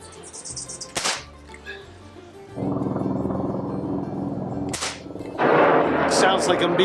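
A Crosman air gun pumped ten times is fired at targets, giving two sharp, loud single cracks a few seconds apart, with rushing, rumbling noise between and after them.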